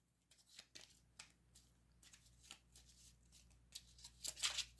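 Cards for the Zombicide White Death board game being shuffled by hand, a series of quiet riffling bursts and soft slaps at an uneven rhythm, close by, with a louder rustle near the end.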